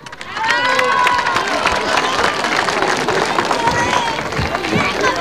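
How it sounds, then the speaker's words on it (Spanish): Loud crowd applause and cheering at a Peruvian presidential event welcoming the President of the Republic, a dense sustained roar of clapping and voices throughout, with shouts mixed in. "Recibamos con un fuerte aplauso las palabras del presidente de la República, señor Ollanta Humala Tasso."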